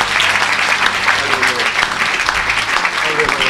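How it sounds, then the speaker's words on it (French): A church congregation applauding during a service, dense continuous clapping from many hands at close range, loud and steady for a few seconds. "Acclamez Jésus."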